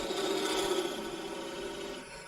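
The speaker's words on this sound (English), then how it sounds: "we're just going to come in with a skew" A skew chisel cutting spinning wood on a woodturning lathe, a close, continuous scraping rasp with a humming tone that eases off toward the end.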